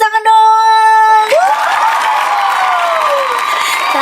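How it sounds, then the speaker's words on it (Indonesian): An audience at a scholarship talk breaks into applause and cheering after a tonal note ends, a dense burst of clapping with voices and a rising whoop that carries on for several seconds. "Keren, tepuk tangan dong."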